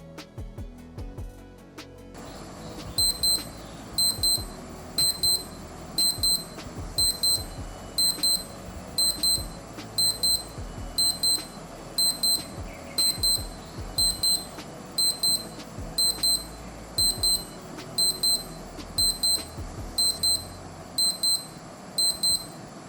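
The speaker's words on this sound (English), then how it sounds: "a budget-friendly watch with a seriously loud alarm" Skmei 2031 wristwatch alarm beeping in sharp, high-pitched bursts, repeating in a steady rhythm of quick beep clusters over faint background noise.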